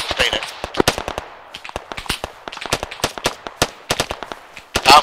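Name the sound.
sustained gunfire in the video game ARMA 3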